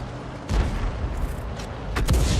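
A tank's powerful naval gun firing in a tank video game: two heavy booming shots, close and loud, with rumbling battlefield noise between them.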